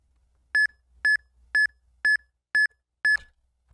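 Six short, identical electronic beeps from the Eon Timer counting down for Pokémon Ruby and Sapphire RNG, evenly spaced about half a second apart, crisp and isolated against near silence.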